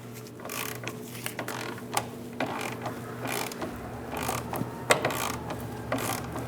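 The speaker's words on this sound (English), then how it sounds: "Using a 15mm socket, we're going to reach up and we're going to remove the two nuts for the support bearing." A ratchet with a 15mm socket clicks in quick uneven bursts while loosening the center support bearing nuts on the driveshaft of a 2001-2006 Chevrolet Silverado, with close metallic pawl ticks and occasional knocks.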